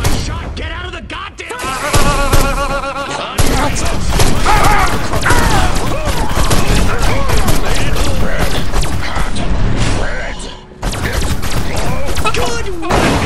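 Weapon fire and explosions in the 2020 remaster of Destroy All Humans, a continuous loud barrage of shots and impacts over a dense game soundtrack, with character voices talking over the battle.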